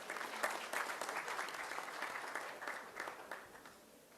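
Audience applause at a diplomacy and sustainability dialogue in Pune, a sustained round of clapping from a young gathering that holds steady for about four seconds, moderately distant and without speech.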